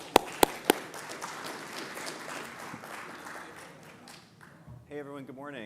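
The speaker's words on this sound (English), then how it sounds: "Everyone, please give them a warm round of applause." Broad applause from a crowd that gradually thins out, ending as a speaker begins talking.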